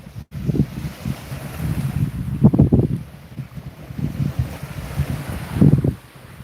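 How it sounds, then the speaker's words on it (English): Gusty wind buffets the microphone in rough, rumbling bursts, rising and falling in strength, with no speech, out on the water at the Phi Phi Islands, Thailand. "the wind is whipping"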